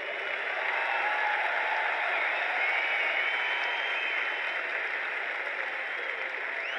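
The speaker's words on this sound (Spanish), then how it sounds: "¡Ese aplauso!" Applause from a concert audience for the keyboardist of a band, a steady, dense wash of clapping from a large crowd filling the whole stretch without a break.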